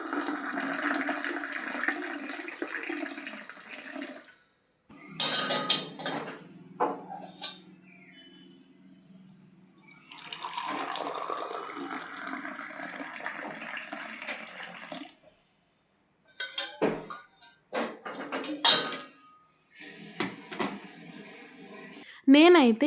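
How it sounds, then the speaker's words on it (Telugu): Cumin (jeera) water strained in a home kitchen, heard as several bursts of pouring and splashing liquid separated by pauses, with a person talking in between. "మన జీరా వాటర్ అయితే రెడీ, ఇంకా స్ట్రెయిన్ చేసుకొని తాగేయడమే"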